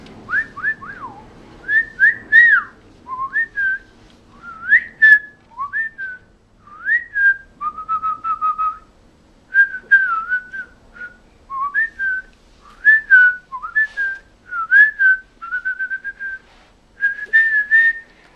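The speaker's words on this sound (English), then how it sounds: "When did you learn how to whistle?" A person whistles a lively tune alone, in short bright melodic phrases with brief pauses between them, close and clear.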